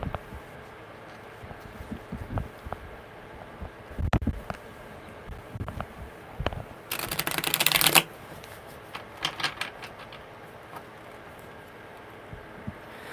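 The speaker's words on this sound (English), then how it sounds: "Okay, one more good shuffle." Tarot cards are shuffled in a quick, crisp riffle burst, surrounded by scattered soft handling clicks and taps of the deck in a quiet room.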